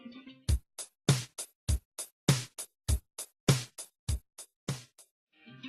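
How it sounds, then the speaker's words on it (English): A typical pop drum beat plays, a steady pattern of sharp percussive hits in a regular repeating rhythm, with a voice briefly audible at the start and end. "In pop music, the rhythm is typically expressed by one dominant drumming pattern"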